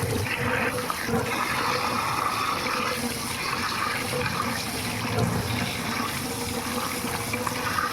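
Lau (bottle gourd) leaves being squeezed and washed by hand in water, a steady sloshing and splashing that runs on without a break, close and fairly loud, with no talking.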